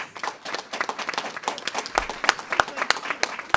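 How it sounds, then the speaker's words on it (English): A crowd at a governor's public announcement applauds their mayor with lively, uneven clapping, bursts of sharp hand claps rising and falling throughout. "You got to clap for our mayor"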